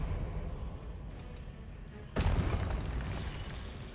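A Confringo blasting-spell explosion in the Hogwarts Legacy video game bursts out midway as one sudden, loud boom, followed by a noisy rumbling tail over the game's background ambience.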